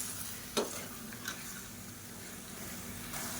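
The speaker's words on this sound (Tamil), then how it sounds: "இப்போ அரை கிலோ சிக்கனை சேர்த்துக்கலாம். சேர்த்து நல்லா வதக்கிக்கலாம்." Half a kilo of chicken sautéing with tomato masala in a pan, a faint steady sizzle with a couple of soft stirring knocks, quiet and close.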